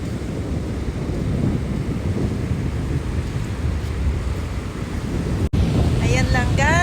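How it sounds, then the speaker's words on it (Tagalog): Wind buffets the microphone over rolling surf at the seaside, a loud, constant roar of waves and gusts with one brief dropout near the end. "Nag-i-enjoy ako dito sa tabing dagat"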